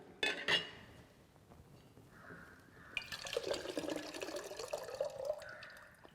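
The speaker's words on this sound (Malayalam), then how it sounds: "ഊറ്റിക്കളഞ്ഞിട്ട് തൽക്കാലം ഞാൻ ഇതിലേക്ക് ഒഴിക്കുകയാണ്" Water is drained from a rubber hot water bag into a container, with a couple of brief clinks at the start, then a soft trickling pour that swells into a steady splashing stream nearby.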